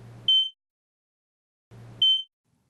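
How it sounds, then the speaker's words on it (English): An apartment smoke detector sounds its low-battery warning: two short, high electronic beeps about two seconds apart, each preceded by a brief low hum, in an otherwise silent room. "Smoke detectors have an alarm in them to tell you when the battery is too weak."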